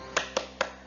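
Three sharp, even claps in a quick rhythm, close and clear, part of a classroom-style clapping chant.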